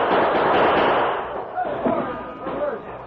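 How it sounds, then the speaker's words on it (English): Rapid gunfire bursts and thudding shots ring out in an old-time radio western shootout as outlaws open fire, loud and dense, with a voice talking over the clatter. "The Lone Ranger allowed the outlaws to open fire first."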